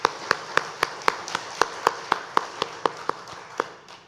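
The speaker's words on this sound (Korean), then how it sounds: "우리 박수로 축하합시다." A church congregation applauding during a Sunday service, a sparse, evenly spaced run of single claps that sounds like a few people clapping slowly at moderate volume.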